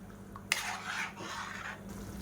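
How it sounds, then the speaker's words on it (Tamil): Kulambu curry in a pan, stirred with a utensil: a sharp scrape near the start, then a steady close wet stirring and clinking rustle with soft bubbling beneath, continuing evenly without talk. "தண்ணி சேர்த்துட்டு நல்லா கொதிக்க விட்டுக்கலாம்."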